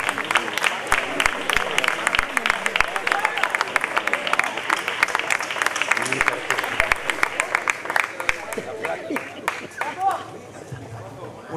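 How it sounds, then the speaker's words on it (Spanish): An audience claps at a flamenco contest prize-giving, the Noches de Bajo de Guía final, with sharp individual claps standing out over crowd murmur and babble; the applause thins and fades near the end. "Un aplauso también para el Gordo Prospín"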